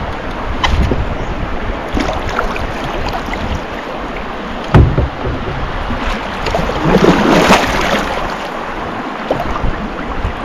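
A canoe is paddled upriver against the wind on a spring trip in Algonquin Park, with steady wind buffeting the microphone, lapping water, and occasional paddle splashes and knocks close by.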